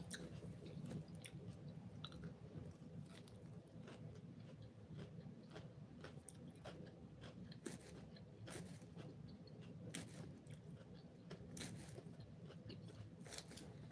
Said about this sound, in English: I know y'all hear that crunch.